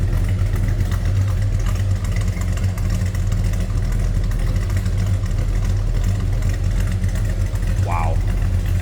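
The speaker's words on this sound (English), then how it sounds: "Wow, good sounding car." A 1969 Plymouth GTX idling with a deep, steady low rumble that holds evenly for several seconds, loud and close, with a brief faint chirp near the end.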